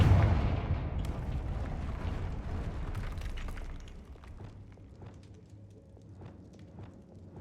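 A Confringo spell explosion in a Harry Potter video game: a booming blast opens loud and decays over several seconds into a low rumble, followed by faint scattered thuds.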